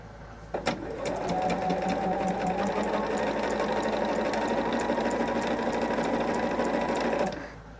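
A sewing machine stitches fabric strips in one steady, continuous run lasting several seconds, close and moderately loud, then stops abruptly.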